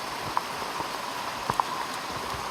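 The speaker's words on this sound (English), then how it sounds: "we got caught in the rain again" Rain falling in a forest in Portland, Jamaica, a steady, faint patter of drops on leaves with a few louder, sharper drips standing out.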